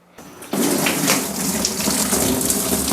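A garden hose run indoors fills a hydroponic lettuce tub, starting with a brief trickle and then jumping to a loud, steady gush of running water that continues close by without a break.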